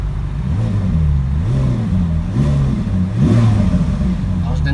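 A Ferrari 458 Italia engine is given short blips of the throttle, its pitch rising and falling in several quick revs from idle, loud and close.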